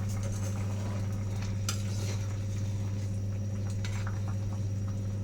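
Fish curry boiling in a pot is stirred, a spoon scraping and clinking against the pot in short irregular strokes over a steady bubbling and low background hum, close up, with no talking.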